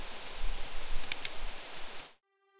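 Heavy rain pours down during a Kalboishakhi storm as a dense, steady roaring hiss for about two seconds, then stops abruptly, leaving only faint sustained tones.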